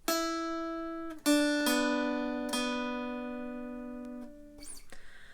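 A mountain dulcimer rings out a slow melody of a few notes from "Leaning On The Everlasting Arms", each ringing and decaying, ending with soft handling noise.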